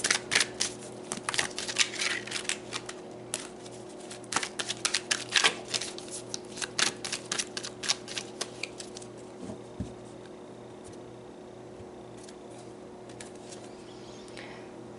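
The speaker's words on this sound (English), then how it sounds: "So let's pull some" Tarot cards being shuffled by hand, a close run of quick papery riffles and taps that thins out and stops, leaving quiet room tone.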